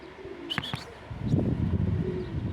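Young pigeons around a loft: a couple of quick chirps up front, then low, soft, bubbling coos that grow louder and continue close by in a burbling rhythm.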